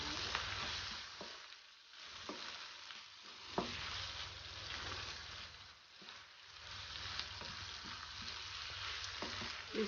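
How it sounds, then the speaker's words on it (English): Mussels fry in a pan with Dijon mustard and Maggi cubes, giving a steady close sizzle and crackle with occasional stirring scrapes. No one speaks. "we leave this one also to fry for a minute or two"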